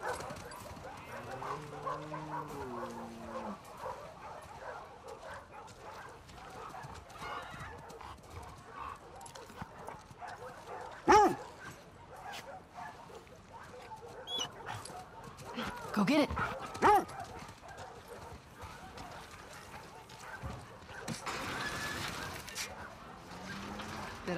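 A dog barks and whimpers in The Last of Us Part II, faint amid horse hoofbeats, a whinny and quiet ambience, with occasional voices in between.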